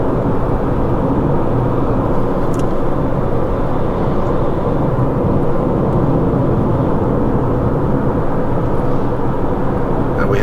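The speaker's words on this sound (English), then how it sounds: "And we have some traffic here." Steady, loud road traffic on Kunia Road, Oahu, with cars passing in both directions as a continuous close rumble and roar that never lets up.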